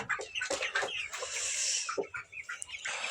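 Kuchinsky and Australorp roosters with young chickens cluck and squawk close by in a farm coop, a quick series of short calls and a longer raspy cry, fairly faint overall.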